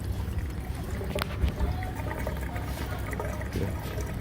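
Liquid poured into the gas tank of a Toyota RAV4, a steady gurgling pour with trickling splashes running continuously at moderate level, close by and without talk.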